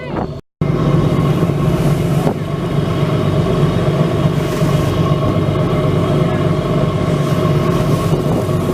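A tour boat cruises San Francisco Bay, its engine a loud, steady low drone with a broadband rumble throughout, briefly cutting out near the start before resuming unchanged.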